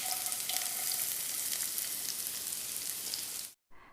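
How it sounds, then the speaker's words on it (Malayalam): Chopped onion sizzles in a tablespoon of oil in a pan, a steady loud crackle that runs continuously for over three seconds before cutting off abruptly near the end. "ഞാനിവിടെ ഒരു പാനിനകത്തോട്ട് 1 ടേബിൾ സ്പൂൺ ഓയിൽ ഒഴിച്ച് കൊടുക്കുന്നുണ്ട്. അതിലേക്ക് നമുക്ക് ഒരു സവാള ചെറുതായിട്ടൊന്ന് കട്ട് ചെയ്ത് ചേർക്കാം."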